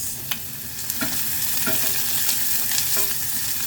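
Onions sauté in a hot pan for chicken tinola, giving a continuous close sizzle with occasional stirring scrapes and small pops, moderately loud and free of talk.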